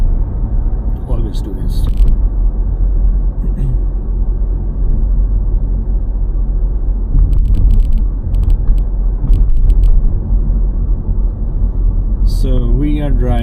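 A car driving through the city streets of Darmstadt, Germany: a steady low engine and road rumble from inside the cabin, with someone talking over it throughout.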